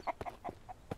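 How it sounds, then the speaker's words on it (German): Chickens cluck in rapid, close bursts inside the survival video game MIST Survival, several short squawks within a second. "Gott, diese Hühner."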